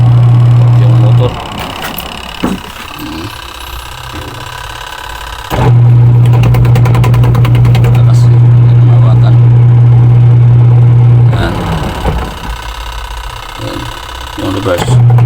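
A Sharp Giga Wash washing machine runs on a newly replaced wash motor, giving a steady low hum in two long bursts with a shorter one at the end, while people talk between runs.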